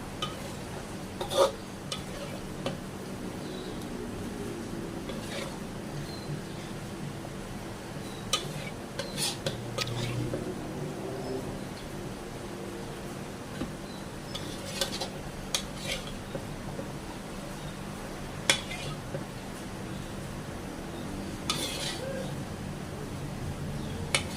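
Meat seasoned with salt is stirred and fried in a pot for biryani, with scattered metallic scrapes and clinks of a utensil against the pot over a soft steady sizzle.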